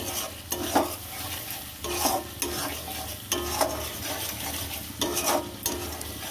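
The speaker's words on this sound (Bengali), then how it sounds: "এবার আমি 1 চামচ ঘি দিয়ে দেবো, 1 চামচ ঘি দিয়ে দেবো। দিয়ে এটাকে নেড়ে নিয়ে" Spiced masala cooked down with a spoonful of ghee is stirred in a pan for cauliflower roast, a spoon scraping in four or five broad strokes over a steady close sizzle, with no talking.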